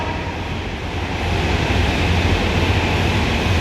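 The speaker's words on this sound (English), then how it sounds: "Platform 1, train coming this way." A train pulls into the platform at Leighton Buzzard station, a broad rumbling roar that swells after the first second and holds steady and loud, with no voices over it.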